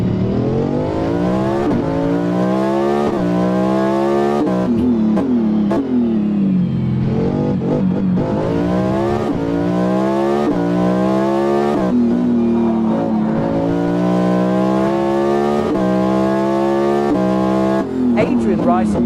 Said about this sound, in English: On board with Chad Gracias in the hypercar AM.